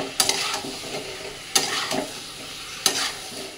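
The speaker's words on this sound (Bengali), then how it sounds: "এবার মশলার সাথে কিছুক্ষণ আরো কষিয়ে নেবো।" Potato and jackfruit are stirred and fried with spice paste in a pan, three sharp scraping stirs cutting through a steady close sizzle, with no talking.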